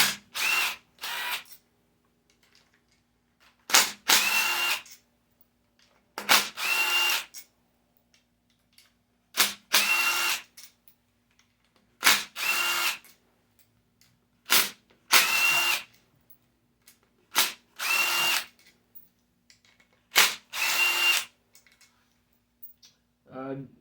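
A power drill or impact tool removes the camshaft holder bolts from a carbureted Honda Blackbird engine, sounding in about nine loud, separate bursts of a second or so each, with quiet gaps between them.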